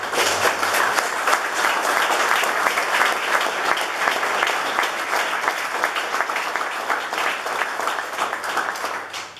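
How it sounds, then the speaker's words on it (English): Sustained applause from an audience at an Army Order of the Bayonet medal ceremony honoring 7th Division soldiers, a dense, steady wash of many hands clapping that holds for the whole stretch. "Let's give them everybody a round of applause."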